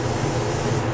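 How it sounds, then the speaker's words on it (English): A steady, close spray hiss of primer misting onto a resin figure from a few inches away runs continuously for a moment, an even misting burst with no pauses. "I'm going to spray a light misting coat at about this distance"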